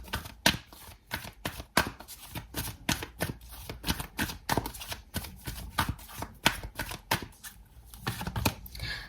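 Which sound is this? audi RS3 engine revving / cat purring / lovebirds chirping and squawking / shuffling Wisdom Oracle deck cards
shuffling Wisdom Oracle deck cards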